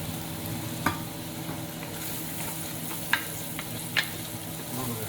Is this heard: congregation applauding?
no